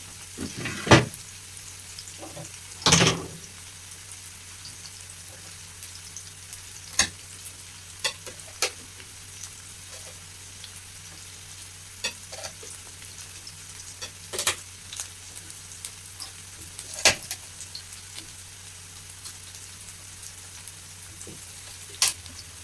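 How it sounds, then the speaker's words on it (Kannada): Green chillies and chopped onion frying in a pan, a soft continuous sizzle with occasional sharp clacks and knocks of a spatula or utensil scattered through. "ಈರುಳ್ಳಿ ಗೋಲ್ಡನ್ ಕಲರ್ ಬರೋವರೆಗೂ ಫ್ರೈ ಮಾಡ್ಕೋಬೇಕು"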